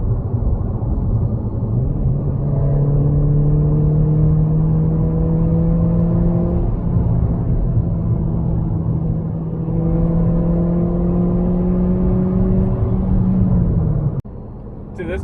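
A tuned Toyota Corolla engine drones steadily while driving, its pitch climbing through two long pulls with a gear change between, loud and continuous throughout, then a sharp click near the end.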